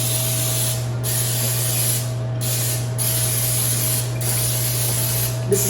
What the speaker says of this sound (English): I'm using a butter spray